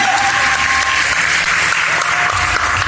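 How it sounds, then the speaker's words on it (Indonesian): Loud, continuous applause from a church congregation at a Christmas service, many hands clapping in a dense, even roar from start to finish. "mari kita berikan tepuk tangan sekali buat mereka."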